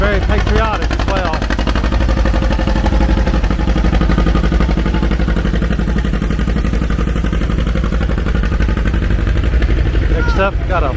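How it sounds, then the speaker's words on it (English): An old antique John Deere tractor engine chugs loudly and continuously at a parade during an antique tractor show, a rapid popping beat close by, with crowd sounds mixed in. "Love the sound of this old John Deere here."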